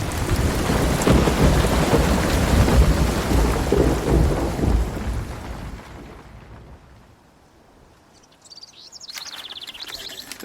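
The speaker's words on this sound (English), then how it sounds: "The storm is beautiful." Heavy rain pours during a thunderstorm, with rumbling thunder close and loud for several seconds before the downpour eases and fades. Faint bird calls are heard near the end.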